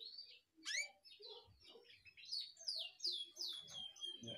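Canaries chirping and tweeting in a breeding nest box made of coconut fibre and coconut shell, a busy run of close, bright calls and trills with short pauses between.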